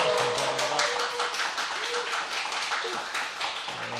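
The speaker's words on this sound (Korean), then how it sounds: "맨 처음에 이렇게 박수 받는 게 쑥스럽지만 이제 익숙하네요." A lecture audience applauding a Bible lecturer, dense steady clapping throughout at close range with a voice briefly audible.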